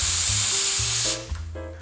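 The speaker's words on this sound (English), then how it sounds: "this is what we use in preparing our frothed milk in terms of preparing cappuccino, latte, or any espresso-based beverages that needs milk" An espresso machine's steam wand hisses loudly and steadily as it froths milk for cappuccino or latte, then cuts off abruptly near the end, leaving a lower tonal hum.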